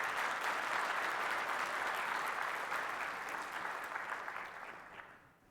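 Applause from a conference audience after a talk on a dynamic binary analysis tool, a dense steady clapping crowd that holds loud and then fades out toward the end.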